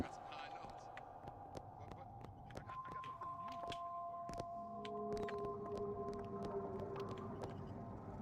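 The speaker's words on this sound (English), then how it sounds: "There was a whale." Deep, drawn-out whale calls rise and hold as long tonal moans in the BioShock Infinite: Burial at Sea game, heard at moderate distance over a bed of ambient game sound with scattered clicks.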